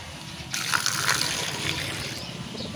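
Water pours and splashes steadily into a chicken waterer close by, a continuous gushing trickle.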